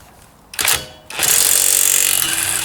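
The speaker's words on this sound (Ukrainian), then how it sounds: "Зараз спробую відкрутити болти е, коліс." An Einhell IMPAXXO 18 cordless impact wrench works on car wheel bolts, giving a short loud burst and then a sustained loud hammering rattle close by.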